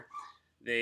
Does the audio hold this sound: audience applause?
no